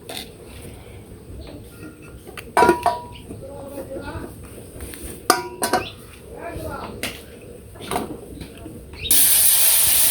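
Vegetables hit a hot pan of oil left from frying fish, giving sharp hissing bursts and clatter of a utensil, with a loud sizzle swelling at the end; a voice speaks over parts of it.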